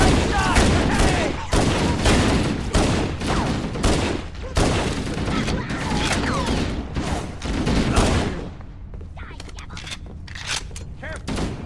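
Sustained automatic gunfire in Halo: Combat Evolved, dense and loud for about eight seconds, then thinning into scattered shots, with voices shouting through the battle.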